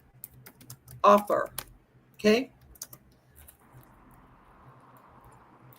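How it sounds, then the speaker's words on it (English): Keys on a computer keyboard clatter in two short bursts of typing, close and fairly loud, with someone speaking briefly in between. "I'm typing this as we speak"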